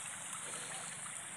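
Irrigation water pours steadily into a flooded rice paddy, a continuous even rushing and gurgling with no voices over it.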